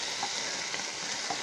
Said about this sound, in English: Good sizzle going on.